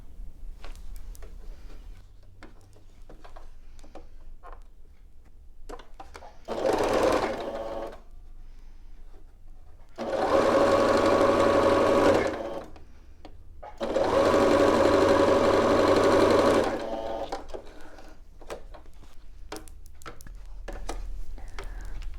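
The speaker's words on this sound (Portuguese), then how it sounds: "Passar a costura de fora a fora, pegando aqui, ó, desde do retângulo rosa até o quadradinho." Sewing machine stitching a patchwork pillowcase seam in three steady whirring runs, the second and third longer, close and loud, separated by quiet pauses with small handling clicks.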